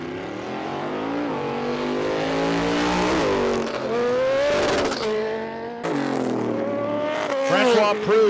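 A drag racing motorcycle at a dragway launches and revs hard, its high engine note climbing and dropping through repeated gear changes, loud and close, with a voice over the PA in the background.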